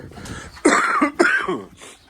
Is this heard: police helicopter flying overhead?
no